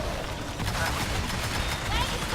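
Dense, continuous turret gunfire rattles through a team fight in the Evolve video game, a loud barrage of overlapping shots with battle noise that holds steady from start to finish.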